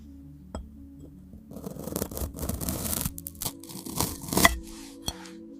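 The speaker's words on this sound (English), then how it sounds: "Cutting glass food ASMR." Glass-like food is cut in close-up ASMR style, with a run of crisp scraping, crackling and tearing textures that build and fade, plus a few sharp clicks.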